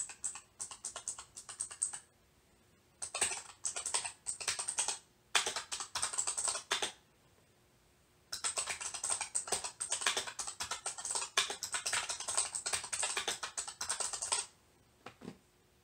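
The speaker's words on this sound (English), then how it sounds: "This is the new keyboard." New computer keyboard in a gaming setup being typed on up close, rapid clacking keystroke bursts separated by short pauses, with no voices.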